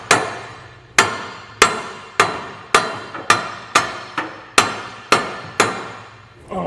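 Metal hitch part being tapped into place during a B&W fifth wheel trailer hitch installation on a 2012 Ram 2500, eleven sharp, loud hammer strikes at a steady rhythm, each ringing briefly before the next.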